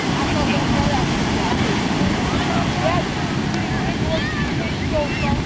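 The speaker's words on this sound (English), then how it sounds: "those waves are really big" Large ocean waves crash and roar continuously nearby, a dense wash of surf with wind buffeting the microphone and faint voices underneath.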